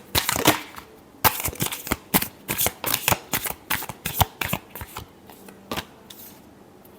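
A deck of tarot cards being shuffled close up, a quick run of crisp riffling snaps and card slaps in uneven bursts, with no voices over it.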